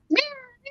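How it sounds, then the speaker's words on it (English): A cat meowing close by, one drawn-out meow followed by a shorter second meow, loud and clear. "you can hear all the meowing in the background"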